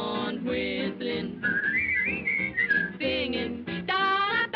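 A person whistles a cheerful, wavering melody up close, the notes sliding and trilling over a brief musical backing.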